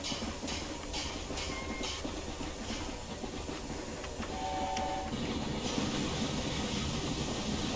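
Steam locomotive hauling an excursion train on the Fife Circle route in Train Simulator 2021, a steady rumbling roll of wheels on rails with soft hissing and periodic clicks, continuous and moderately loud throughout.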